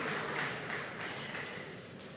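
An audience applauds at Nigeria's 26th democracy anniversary celebration, a steady wash of many hands clapping at a distance, fairly soft and unbroken.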